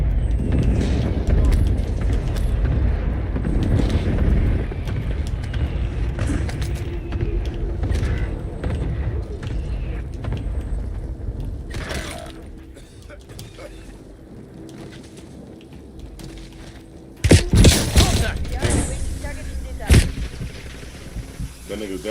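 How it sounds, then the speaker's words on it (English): Airstrike explosions in an online shooter video game, several heavy booming blasts landing close together in the second half over constant low rumble, with players talking throughout. "Hostile airstrike incoming."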